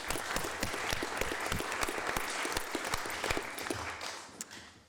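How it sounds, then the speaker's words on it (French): Steady applause from a conference audience for the speakers after a talk on politics and spirituality, many hands clapping evenly at moderate distance with no voices. "je crois qu'on peut vous applaudir"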